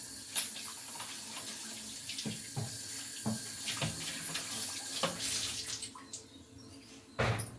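Water runs steadily from a tap into a sink, a continuous splashing hiss with a few louder clatters and knocks near the end.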